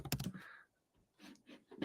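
Quick clicking keystrokes on a computer keyboard, a burst of taps followed by a pause and a few more faint clicks, heard close and quiet.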